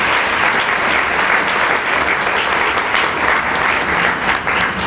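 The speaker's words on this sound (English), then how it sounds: "Please give them a round of applause as they stand." Steady, sustained applause from a large crowd at a county address, loud and continuous throughout with no pauses.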